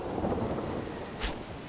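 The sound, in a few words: rain and thunder sound effect in an audio drama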